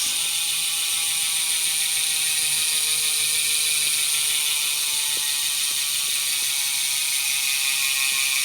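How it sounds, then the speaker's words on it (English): A Bontrager Aeolus Pro V5 bicycle wheel freewheels, its hub ratchet giving a steady, close, continuous high whirring buzz with a faint mechanical ticking beneath, and no voices. "Hub sound check on the Bontrager"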